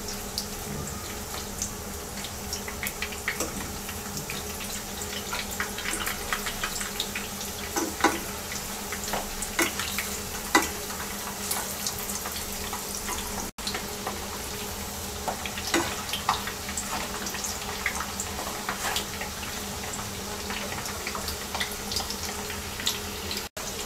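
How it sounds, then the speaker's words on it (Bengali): Eggs fry in oil in a pan after being flipped, making a continuous low crackling sizzle with scattered small pops, fairly quiet and unbroken, with no voices. "এবার ডিমগুলোকে উল্টিয়ে দিচ্ছি।"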